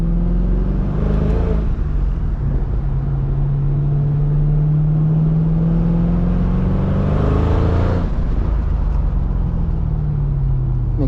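Supercharged 2005 Mercedes CL55 AMG accelerates hard in repeated pulls, engine pitch climbing steadily, dropping at a gearshift, then rising again under loud, close road and wind noise.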